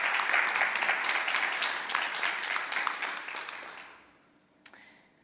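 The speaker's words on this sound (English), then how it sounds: "Everyone, please give Bert a big round of applause" Conference audience at a Microsoft Windows 10 accessibility session applauding steadily, a dense crowd of clapping that holds loud for about four seconds, then thins and fades out, ending with one sharp knock.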